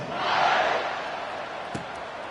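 Football stadium crowd at a Texas vs Texas Tech game roaring before kickoff, a broad swelling cheer that peaks early then settles into steady distant noise, with a sharp thud near the end.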